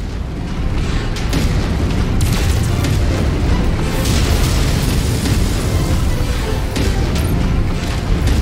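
Explosive tanks atop a building blowing up in MechWarrior 5, a loud continuous rumbling blast with repeated booming bursts that fills the whole stretch without any voices.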